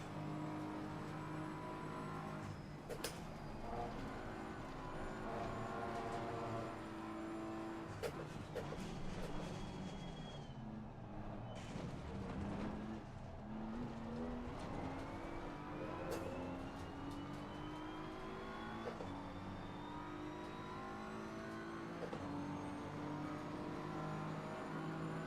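Aston Martin race cars at Suzuka in Assetto Corsa Competizione give a continuous engine drone that rises and falls through gear changes, with other cars whooshing past nearby, mixed fairly low.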